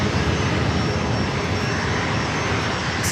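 A Southwest Airlines Boeing 737 MAX 8 passenger jet roars loudly and continuously at San Diego airport. The powerful engine noise is broad and unbroken, with no talk over it.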